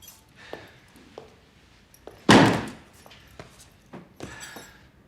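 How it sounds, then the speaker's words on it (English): A door is pushed open and shut in a quiet room, one loud broadband thump standing out among a few softer knocks and clicks, with no talk. "open the door."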